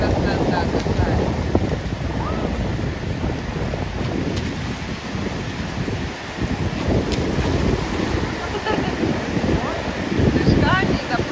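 Sea waves rolling in on the beach at Dzhemete, heard as a rough, surging wash under heavy wind buffeting on the microphone, with swells rising and falling near the end; voices are faintly present.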